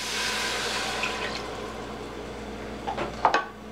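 Organic beef broth pours into a pan of onions, mushrooms and garlic with a close, splashy rush, and a few sharp utensil clinks and knocks against the pot near the end.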